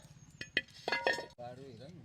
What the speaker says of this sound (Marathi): तवा ठेवूया आता.